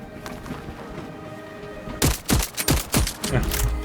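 Gunfire in the video game Voidtrain bursts out after a quieter stretch of game ambience, a quick run of sharp, loud shots in an uneven rhythm.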